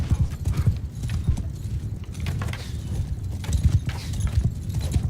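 Horse hooves clip-clop and gallop in Mount and Blade II: Bannerlord, a dense, steady rhythm of close, loud thuds running throughout over a rough field of game ambience.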